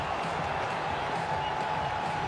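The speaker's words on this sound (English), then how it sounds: "The crowd erupts." A large cricket crowd roars after a wicket falls in a World Cup 2011 match between India and Bangladesh, a broad, steady wash of cheering and noise sustained throughout without a break.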